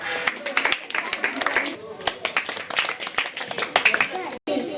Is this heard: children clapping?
yes